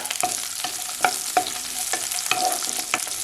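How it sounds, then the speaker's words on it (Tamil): Shallots, curry leaves and dried red chillies sautéing in a pan for a country-chicken fry, with a soft sizzle under repeated scraping strokes of a spoon stirring at an uneven rhythm, close and fairly loud, no talking. "இது நல்லா ப்ரௌன் கலராக வதக்கி எடுத்துக்கலாம்."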